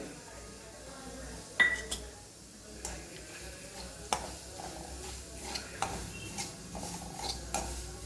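Semolina being stirred and roasted in hot ghee in a pan for strawberry halwa, with a soft steady sizzle, repeated spoon scrapes and clinks against the pan, faint and close, with a voice speaking over it.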